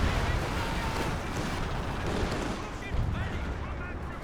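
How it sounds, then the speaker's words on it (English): Dense, rumbling artillery barrage in the strategy game Company of Heroes 2, with continuous booming explosions and battle noise filling the mix while a voice talks over it. "Artillery coming in on the point,"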